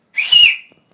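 A person gives a single short, bright whistle lasting about half a second, close and loud, with nothing else around it.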